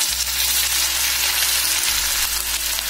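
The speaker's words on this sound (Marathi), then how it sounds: "आता आपण हे शालो फ्राय करून घेऊया।" Carrot and potato dhokla pieces shallow frying in hot oil over medium heat, giving a steady, loud, close sizzle that runs unbroken throughout.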